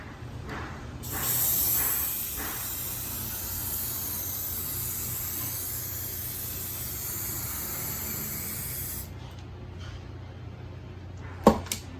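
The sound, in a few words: gold spray paint being sprayed onto rusty jewelry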